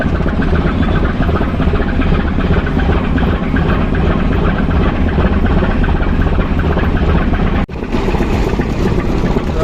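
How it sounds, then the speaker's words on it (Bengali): The passenger launches Moyur 10 and Yubaraj 7 turn together at a river terminal, and their heavy engines drone loud and continuous with a low rumbling throb and a brief dropout near the end. "একত্রে ঘোরানো হচ্ছে দুটি লঞ্চ"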